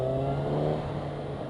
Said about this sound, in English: the bike sounds like a jet turbine, which is really cool.